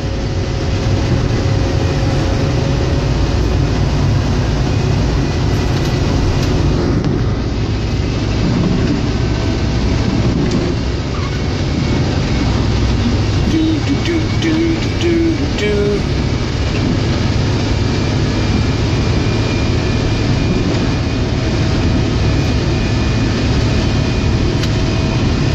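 A John Deere 624J wheel loader plows snow during the Christmas snowstorm of 2017. Its heavy engine drones loudly and steadily throughout, with scraping and rumbling under it and some faint voices.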